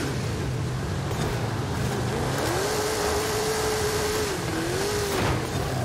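Engine of a car in the Forza Horizon 5 racing game, a steady droning rise in pitch as it accelerates and holds speed, then a brief dip and climb, loud and continuous.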